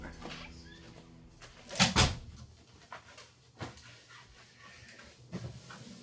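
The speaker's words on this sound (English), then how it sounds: "I'll get the door." Indoor door being opened, heard as a couple of sharp clunks and a latch click close by, followed by a few softer knocks and bumps in a quiet room.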